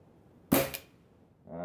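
An Air Arms TX200HC underlever air rifle fires a single shot with its moderator fitted, giving one short, fairly quiet crack close by in a quiet room, followed after a pause by a low sound that starts near the end.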